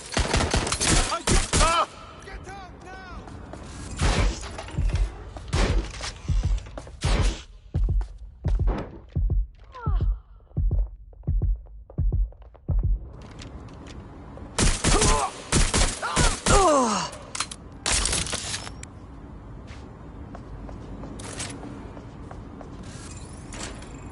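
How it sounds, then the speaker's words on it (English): Bursts of gunfire in Watch Dogs: Legion, sharp, loud shots fired in quick rapid volleys, then a run of evenly spaced single shots, a quieter pause, and another dense volley. "Suspect shooting!"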